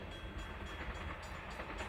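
A northbound Amtrak passenger train rolls through Valley Mills, a steady, loud rumble of wheels and cars passing close by with a continuous broadband roar and no voices.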